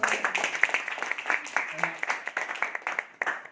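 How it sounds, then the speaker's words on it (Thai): An audience claps at a motivational talk, a scattered, uneven patter of hands that rises and falls with a speaking voice over it. "ขอเสียงปรบมือดังๆ"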